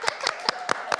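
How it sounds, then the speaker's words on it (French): A small studio audience at a French live show claps sharply, five distinct slaps at an even, deliberate pace, close and clear with no talking. "des personnes dans ce studio qui peuvent nous applaudir de façon motivée?"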